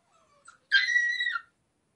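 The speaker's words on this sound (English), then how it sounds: "the dog's screeching" Fighting dogs screech indoors, a faint yelp followed by a sharp, loud, high-pitched squeal lasting under a second, then silence.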